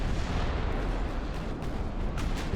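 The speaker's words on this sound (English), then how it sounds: "Oh, Rhode Island just took a torpedo." A torpedo strikes a battleship in Ultimate Admiral: Dreadnoughts, heard as a dense, booming explosion roar that fills the whole short moment, loud and rumbling with broad crackling noise.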